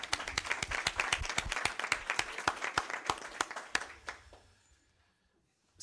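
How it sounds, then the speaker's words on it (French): A small group claps at a French municipal council meeting, with distinct individual claps in a brisk, uneven rhythm that thin out and stop after about four seconds, leaving near silence. "M. Jamel Kahaleras, que je vous demande d'applaudir également."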